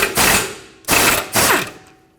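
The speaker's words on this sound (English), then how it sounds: "Now use an 18mm socket and remove the 2 bolts that hold the bracket onto the axle tube." Three quick bursts of a ratchet turning an 18mm socket to loosen a caliper bracket bolt on the rear axle of a 2012–2014 Ford F-150, close and clear with short pauses between strokes.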